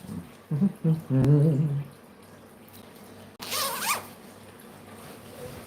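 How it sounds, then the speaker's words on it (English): Zippers on a trench coat are drawn up in a couple of quick, rasping pulls, with a brief voice and clatter first and another zip partway through. "zip up everything and then we're going to go outside"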